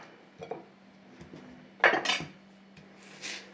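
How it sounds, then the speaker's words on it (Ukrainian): A knife finely chopping onion for potato and dill pies makes a few irregular knocks and crisp cuts on a board, fairly close in a quiet kitchen with a low steady hum behind. "Так, нарізаємо цибулю."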